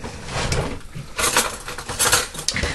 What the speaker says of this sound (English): Let me grab a spoon